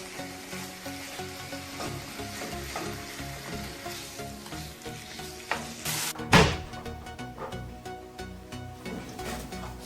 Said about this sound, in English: You're gonna stir, try to get all that seasoning inside of your beef